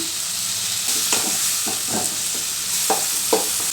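Tamarind fries in a little oil in a pan, a constant bright sizzle broken by several short scraping stirs of a spoon, close and with no voices.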